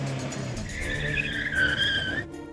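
Car tyres squeal and skid through a staged chase on busy Cebu streets in the Philippines, a rising screech that holds for about a second and a half over steady engine and road rumble before cutting off.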